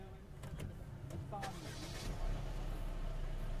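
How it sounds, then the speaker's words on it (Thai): A Mercedes-Benz twin-turbo engine starts up at a test track: a low rumble swells about two seconds in and settles into a steady, throaty idle, with faint voices in the background. "เนี่ยครับเสียงเครื่องยนต์เทอร์โบคู่คำรามนะครับ"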